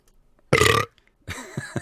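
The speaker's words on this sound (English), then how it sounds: "Pepper burp." A man lets out a single loud, close burp after eating a pepper, following a quiet pause and trailed by soft breathy sounds.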